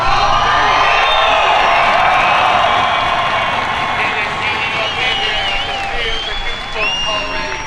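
A crowd at a drifting event roars and cheers continuously, loud and dense. Voices talk over it, with whoops and clapping mixed into the din.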